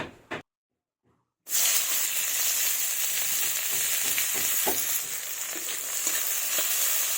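Chopped onions tipped into hot oil that already fried fish, a brief thump and a second of silence, then a sudden loud, steady sizzle with soft stirring scrapes underneath, close and continuous.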